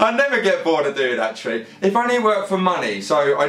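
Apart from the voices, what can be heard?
No distinct noise like a dog, phone or traffic.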